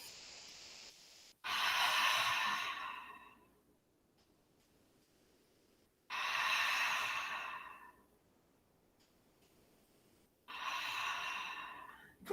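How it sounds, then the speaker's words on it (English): Slow deep breaths drawn during a seated yoga rest, three long breathy exhalations spaced several seconds apart with quiet pauses between, close and soft. "Take a couple breaths here."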